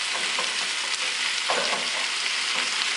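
Food sizzles steadily in a non-stick Foreman skillet while a plastic spatula stirs it, producing a continuous close frying hiss with soft scraping touches and no talk.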